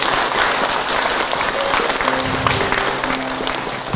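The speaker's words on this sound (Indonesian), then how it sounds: "boleh tepuk tangan untuk Ahilman Ibu" An audience at an Islamic religious lecture breaks into steady, dense applause, loud and continuous throughout, with a faint murmur of voices beneath.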